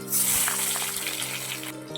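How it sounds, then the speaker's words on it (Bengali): A medium tomato drops into hot oil spiced with black cumin and green chilies, and a close, steady sizzle hisses throughout with no one speaking. "আর দেবো মাঝারি সাইজের একটি টমেটো"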